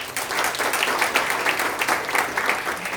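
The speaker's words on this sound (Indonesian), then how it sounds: "Tepuk tangan." Steady, dense applause from an audience at a corporate event, many hands clapping together at an even level for a few seconds with no talk over it.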